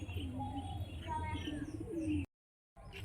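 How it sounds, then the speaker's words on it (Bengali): Female pigeon cooing in a pigeon loft, soft rolling coos close by over a steady low background hum, with a brief dropout near the end. "মাদি পায়রা। হ্যাঁ, মাদি পায়রা।"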